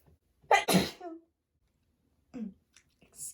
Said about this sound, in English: and I sneeze